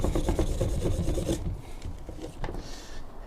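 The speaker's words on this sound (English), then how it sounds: "we're just gonna scrub the whole thing" A brush scrubs a clutch disc clean with cleaner, rapid rough rubbing strokes close up and fairly quiet, easing to lighter scrubs partway through, with no voices.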